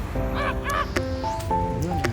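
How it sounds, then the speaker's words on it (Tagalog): Crow cawing outdoors in snowy Sapporo, several harsh, nasal caws in quick succession, close and clear over a low background hum. "Hala siya, uwak ka girl."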